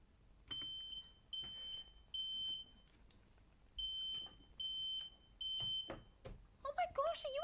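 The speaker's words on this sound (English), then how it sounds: "It's the fire alarm." A household smoke-style fire alarm beeps in six loud, evenly spaced piercing tones, followed by a rising and falling alarm wail near the end, with brief voices and movement between the beeps.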